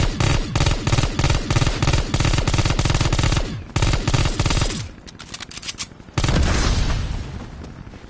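Heavy gunfire hammers in rapid, loud bursts, rattling continuously with brief pauses and a final sustained volley, close and booming.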